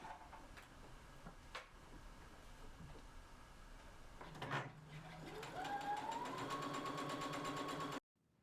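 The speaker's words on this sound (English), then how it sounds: "We're going to sew nice and slowly, as we will want to make sure that we have the fabric aligned properly." A sewing machine runs at a slow, steady pace while stitching fabric for a throw pillow, its motor hum rising and holding through the second half after some quiet handling noises, then stopping abruptly.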